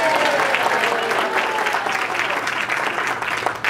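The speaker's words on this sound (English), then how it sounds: "And if the green applause sign goes up, please clap." Wedding guests applauding at a reception during speeches, a dense burst of clapping from a sizable crowd that carries on for a few seconds with some cheering mixed in.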